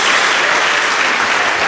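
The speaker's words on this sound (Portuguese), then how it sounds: "Dê uma salva de palmas a Jesus" A church congregation bursts into loud, dense applause for Jesus, a continuous wash of many hands clapping at once, close and full, with no gaps.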